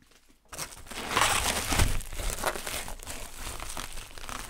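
Plastic packaging around acrylic paints is crinkled and torn open by hand, a steady crackling rustle that starts after a brief quiet moment and continues close up throughout.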